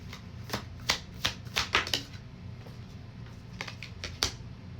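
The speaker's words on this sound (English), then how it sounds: "Let me get one more clarifier card." Tarot cards being shuffled and a card drawn: a run of crisp papery riffles and snaps, loudest mid-clip, then a few lighter card flicks, close and alone without talk.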